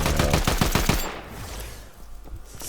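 A Fortnite turret firing a rapid burst of loud, close shots for about a second, followed by a quieter rumbling tail.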